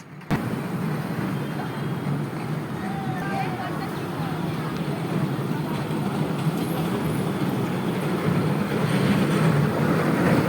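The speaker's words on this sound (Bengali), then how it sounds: "এই পার্কে রয়েছে এক মজার জিনিস যার নাম হলো টয় ট্রেন" A small toy train in a park rumbles along steadily with a rattling, clattering undertone, mixed with outdoor crowd noise and voices.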